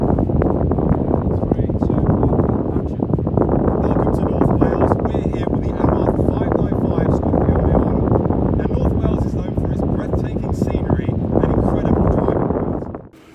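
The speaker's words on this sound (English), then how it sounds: "how strong the wind was" Strong wind on a North Wales beach roars continuously into the microphone with heavy buffeting and rushing noise, loud throughout before cutting off at the end.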